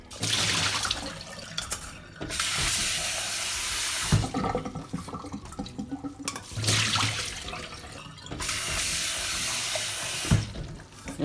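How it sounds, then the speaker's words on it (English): Running tap water splashes steadily into a sink, with rice grains swished and rinsed in bursts until the water runs clear, the flow briefly pausing between rinses. "I'm gonna rinse it until the water is clear."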